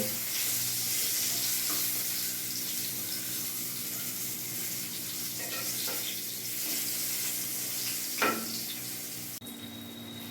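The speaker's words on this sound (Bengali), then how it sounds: "একটু নেড়ে চেড়ে নেবো, একটু লাল লাল করে ভেজে আমি তুলে নেব" Brinjal pieces sizzle steadily in hot oil in a home kitchen, being fried for a pomfret and brinjal curry. The frying hiss is continuous and moderate, with a few faint stirring clinks and no talk.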